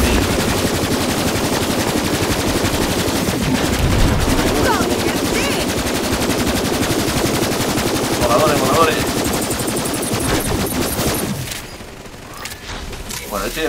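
Sustained automatic gunfire from the shooter Borderlands 3, a dense, loud rattle of rapid shots with booming hits, which cuts out abruptly near the end while a voice talks underneath.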